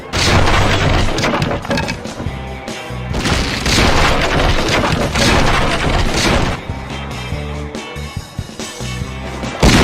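Loud crashing destruction in the SpongeBob Battle for Bikini Bottom video game as a robot is smashed and the wooden pier floor breaks apart, dense booms and splintering impacts filling the whole stretch with only brief dips.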